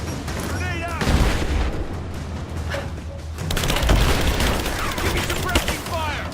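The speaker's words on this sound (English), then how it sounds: "Grenade out!" A grenade explosion in the Rise of the Tomb Raider video game, heavy booms amid ongoing gunfire, with a second larger blast rolling through midway and shouting voices around it.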